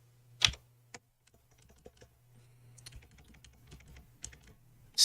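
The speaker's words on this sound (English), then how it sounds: "Still very much unused to my new keyboard." Irregular clicks and taps from a new computer keyboard, close and fairly quiet, with a few sharper louder keystrokes and no talking.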